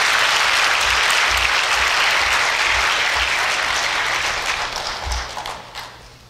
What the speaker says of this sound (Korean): 최문영 명예공학 박사께 다시 한번 더 큰 박수로 축하해 주시기 바랍니다